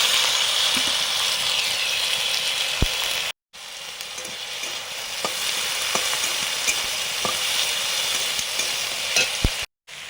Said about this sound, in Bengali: সর্ষের তেল দিয়ে পেঁয়াজ কুচি দিয়ে দিলাম